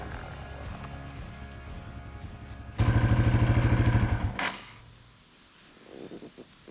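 A Yamaha TW 200 motorcycle rides past, its thumping single-cylinder engine rising to a loud, rhythmic roar for about two seconds before fading away into quieter background rumble.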